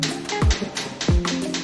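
Two firm, dull knocks on a solid floor tile, a brief gap between them, heard close over faint room noise.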